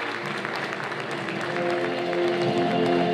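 An audience at an award presentation for a Turkish anti-smoking association claps continuously, a dense, even patter of applause growing slightly louder, with a faint tonal hum beneath.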